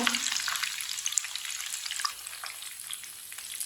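Homemade potato chips fry in a pan of hot oil, a dense, steady crackling sizzle close up that stays loud and even throughout, with no voices.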